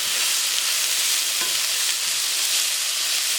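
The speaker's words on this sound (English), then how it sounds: "now, while the pork is cooking" Pork frying in a pan for a jerk pork rice bowl, a steady close hiss and sizzle that continues without pause, with a couple of faint stirring knocks and no voices.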